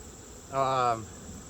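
Honey bees buzz at an open hive during a beekeeping field inspection, a short swell of close, droning buzz over a quiet background.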